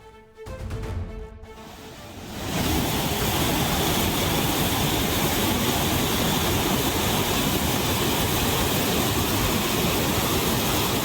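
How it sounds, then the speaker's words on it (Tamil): Old Courtallam waterfall in Tenkasi in heavy flood, a loud, dense roar of rushing water that swells in after a couple of seconds and then holds steady and unbroken. "பழைய குற்றால அருவியில் கடும் வெள்ளப்பெருக்கு ஏற்பட்டது"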